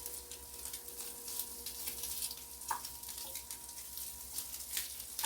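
Sausage and potatoes frying in a pan: a steady, soft sizzle and crackle hissing continuously at moderate volume, with an occasional faint clink.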